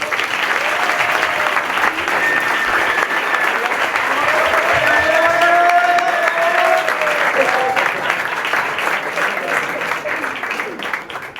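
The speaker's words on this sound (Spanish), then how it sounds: "Un aplauso muy fuerte, por favor." Loud, sustained applause fills a Spanish speaking event hall as a guest is welcomed, a thick wash of many clapping hands with voices and cheers mixed in underneath.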